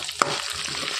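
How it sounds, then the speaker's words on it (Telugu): Crushed garlic and dried red chillies frying in oil: a steady soft sizzle with a single sharp metallic clink from a utensil early on, close and without talk. "కచ్చాపచ్చాగా దంచుకున్న వెల్లుల్లిపాయలు అనేవి ఒక 20 దాకా తీసుకున్నాం. ఎండుమిర్చి అండి, ఒక 4 ఎండుమిర్చి గిల్లి వేసేసుకోవాలి."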